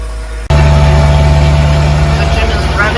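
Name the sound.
boat engine revving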